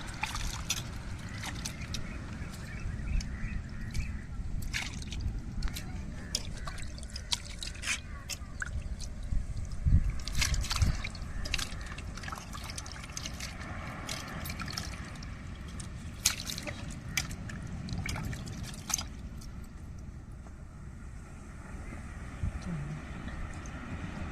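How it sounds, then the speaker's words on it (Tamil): Goat intestines are rinsed by hand with water, giving a long run of wet sloshing, squishing and dripping, with splashes and handling noises close by, against a low continuous background. "நல்ல தண்ணி ஊற்றி நாங்கள் அலசுறோங்க"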